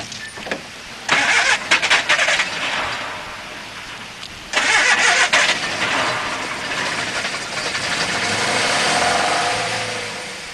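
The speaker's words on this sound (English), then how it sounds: "Can I hear the engine?" An old car engine at a 1979 street scene cranks in two loud bursts, then catches and settles into a steady, rough-running idle close by.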